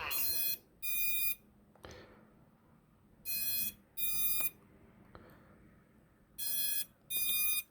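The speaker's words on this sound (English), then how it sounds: "See, and I keep getting the beeping." A Betafpv F4 12A all-in-one flight controller, on a quadcopter, gives repeated pairs of loud, high electronic beeps on startup, recurring in bursts about every three seconds with quieter clicks and handling noise between them.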